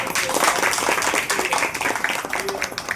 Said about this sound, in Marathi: आपण सगळ्यांनी एकदा जोरदार टाळ्या वाजवून